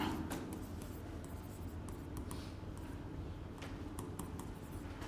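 Chalk or marker writing an inequality sign on a classroom board, faint scratchy strokes over a steady room hum, quiet and close, with no talk.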